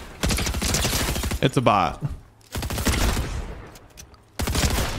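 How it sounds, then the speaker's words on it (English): Gunfire bursts in the video game Fortnite come in rapid fusillades between and under a player's excited talk, with a couple of loud volleys and short gaps of quieter game sound. "Hold on, somebody just shot over here."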